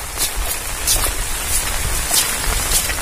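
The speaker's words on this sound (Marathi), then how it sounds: "खूप पाऊस पडतोय." Heavy rain pours down in a Konkan village at Rajapur, a dense, loud, continuous hiss of drops hitting surfaces, with no voices.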